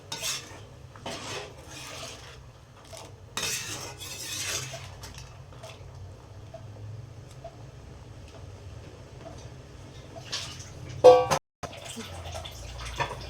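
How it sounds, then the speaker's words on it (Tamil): Peas being stirred in a pot for pattani kurma make soft scraping and clinking bursts of a spoon against metal, separated by long quiet stretches. "பட்டாணியை சேர்த்து நல்லா கிண்டி விட்டுக்கலாங்க"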